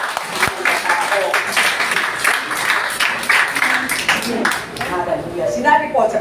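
A church congregation claps in a burst of applause, dense and fairly close, with a voice talking over it.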